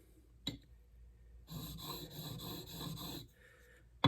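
A steel chisel rubbed back and forth across a whetstone, a brief scrape followed by a sustained gritty rasping stroke lasting nearly two seconds, then a softer pass and a sharp knock at the end, close and fairly quiet.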